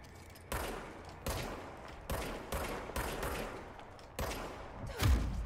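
A self-regenerating weapon firing in the Control video game: a series of sharp, loud gunshot bursts at uneven intervals, about six or seven in all, heard alone with no talking.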